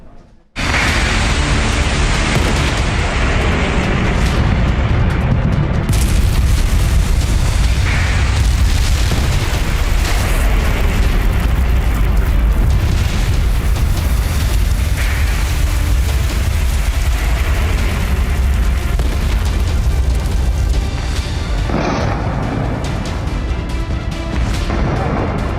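Missile strikes in the Israel–Iran war: loud, continuous roaring blasts and rumbling explosions fill the whole stretch without pause, heavy low booms layered under a dense wash of noise, with no voices.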